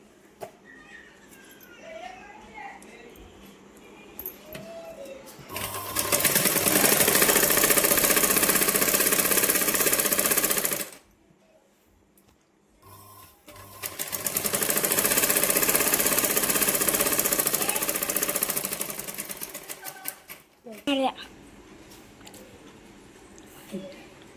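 A sewing machine runs in two long, loud, steady bursts as it stitches cloth cut from an old saree into a cover. Quieter gaps with faint handling noises come before, between and after the bursts.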